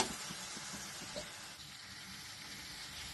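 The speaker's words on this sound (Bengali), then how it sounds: "যে মশলা বাটারটা বানিয়ে রেখেছিলাম সেটাকে অ্যাড করে দিলাম, তার মধ্যে কাঁচা লঙ্কাটা দিয়ে দিলাম। এবার ভালো করে কষিয়ে নেব মশলাটা।" Spice paste with green chili sautéing in a pan: a steady, close sizzle and hiss with a few soft stirring scrapes early on, no voices.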